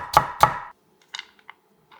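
A knife cuts carrot into thin matchstick strips on a board: two sharp, close chops, then a few faint light taps after a pause.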